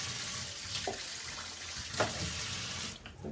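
Tap water runs into a sink while grapes are washed, a soft continuous splashing stream with a few brief clinks and shifts in the flow, no talking.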